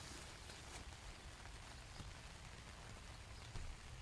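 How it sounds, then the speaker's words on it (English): Heavy rain drumming on a tarp tent during a camp, a steady, faint wash of patter with occasional louder drops. "But it's raining hard at the moment"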